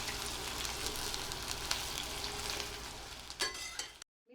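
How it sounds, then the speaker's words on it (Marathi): Coriander sautés in a hot pan until reddish, giving a steady close sizzle and crackle with a few stirring scrapes near the end before the sound cuts off. "थोडी कोथिंबीर घालूया थोड्याशा लालसर होईपर्यंत परतून घ्यायच्या"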